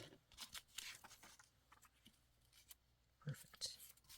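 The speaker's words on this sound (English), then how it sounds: "I'm going to cut this one because it's so fragile." Scissors snip through a fragile music-sheet page for junk-journal ephemera, giving a few brief, close, crisp cuts spread over a few seconds with quiet rustling between.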